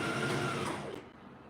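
A sewing machine runs a zigzag stitch along the twice-folded hem of a jilbab, a steady close whirring hum lasting about a second before it stops abruptly, with no voices.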